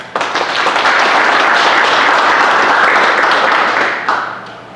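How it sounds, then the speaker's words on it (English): A room full of people applauds at a fire department hall during a county police reform forum, a steady wash of clapping that holds loud for about four seconds and then fades quickly. "Please give them a round of applause."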